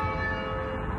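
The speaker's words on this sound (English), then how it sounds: "you can hear the bells" Church bells in Portadown ringing out in a steady, resonant peal, sustained tones carrying at moderate distance with no voices.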